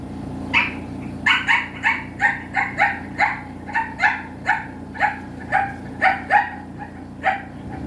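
A puppy barks in a quick series of sharp, high yips, about a dozen evenly spaced over several seconds, fairly close and alone over a low steady background hum.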